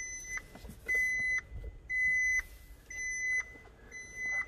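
A 2013 Maserati GTS sounds its key-left-in-ignition warning chime, a repeating electronic beep at an even pace, about once per second, fairly clear over a quiet cabin background.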